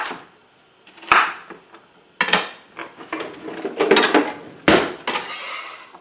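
A knife chopping ingredients for a Philly cheesesteak pizza into thirds on a cutting board, giving several sharp close knocks at uneven intervals with faint rustling and scraping between them.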